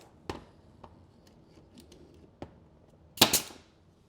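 Nail gun shots fire into a wooden trim piece: a few sharp, isolated cracks spaced irregularly, ending in a louder double burst, close and otherwise quiet.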